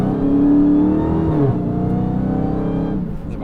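A 2022 Dodge Charger SRT Hellcat Jailbreak engine pulls at about quarter throttle, a loud, steady low drone heard from inside the cabin that rises slightly in pitch, then eases off near the end.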